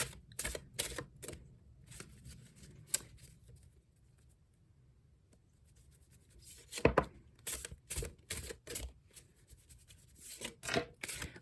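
Tarot oracle cards being shuffled by hand, quiet close-up bursts of crisp flicking and tapping, with a lull in the middle before rapid shuffling resumes.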